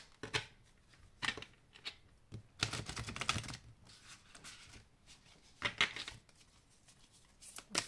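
Tarot message cards being handled and shuffled, a faint, close series of irregular papery flicks and riffles in short bursts separated by quiet gaps.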